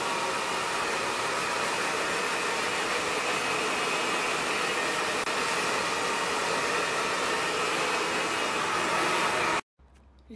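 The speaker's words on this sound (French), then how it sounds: "je les ai séchés au sèche-cheveux" A hair dryer blowing hair dry, a loud, close, steady rushing whir with a constant tone that runs without a break for nearly ten seconds and then cuts off abruptly.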